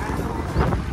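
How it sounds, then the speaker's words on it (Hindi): Cold wind blows outdoors beside a dam and buffets the microphone in a steady, close rushing roar that swells briefly midway. "यहाँ बहुत ज़्यादा ठंडी ठंडी हवा चल रही है"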